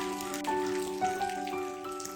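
Rain falling steadily on a blue heron outdoors, a soft continuous patter of raindrops with faint sparkling drips and no voices.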